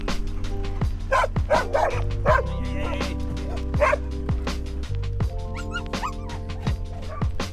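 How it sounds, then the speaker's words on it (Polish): Stray dogs barking at a border crossing in Serbia, several dogs yapping and woofing in a rapid, overlapping series nearby, with engine hum underneath and voices in the background. "wszystkie psy, które te bezpańskie były przy granicy, przybiegły do nas"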